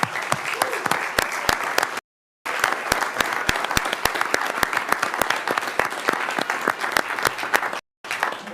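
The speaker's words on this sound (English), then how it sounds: "Please give them a round of applause." Audience applause greets players, coaches and families at a live team recognition event, a dense steady wash of many hands clapping with sharp individual claps on top, broken by two short silent gaps.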